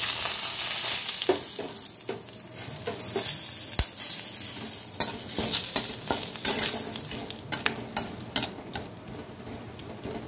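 Bay leaves and garam masala drop into hot ghee and oil for a hilsa fish korma and sizzle steadily, with scattered crackles, spoon scrapes and taps against the pan, close and moderately loud.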